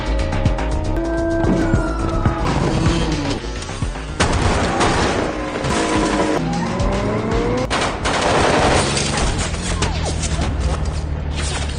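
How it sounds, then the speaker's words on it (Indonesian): Rapid bursts of gunfire crackle over roaring engines and screeching tires, dense and loud throughout, like a chaotic chase scene. "mereka berhasil kabur, tetapi Lola terkena tembakan"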